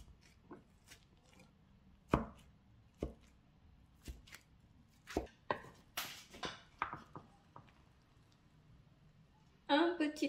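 A knife slicing cooked food on a board, a series of sharp irregular chops spaced about a second apart, close and distinct, ending with a louder clatter.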